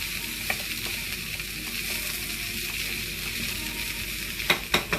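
Salted boiled peanuts are stirred in a pan over heat with a constant close sizzling hiss, ending in a few sharp scraping clinks of the spoon.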